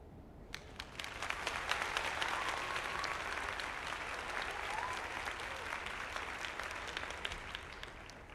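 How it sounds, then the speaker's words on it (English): A crowd applauds steadily, with dense clapping that swells after a moment and carries on without pause. "This is applause."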